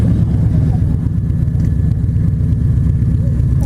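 Motorcycles rumble at a busy Texas rally and car show, a steady, loud low engine drone filling the scene with no clear individual revs standing out.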